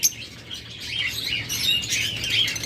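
Pet parakeets, lovebirds and cockatiels at a bird sale, chirping and tweeting in a dense, overlapping chorus, close and continuous, with no talking.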